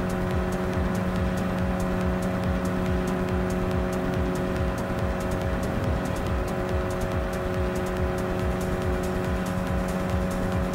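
Race cars in Gran Turismo Sport, including a KTM X-Bow R, driving in a custom race: a continuous loud engine drone with steady whine and tire noise throughout, no talking.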